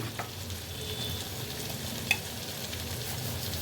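Boiled black chickpeas go into a pumpkin curry frying in a pan, giving a steady soft sizzle with faint stirring and one brief clink near the middle, and no talking.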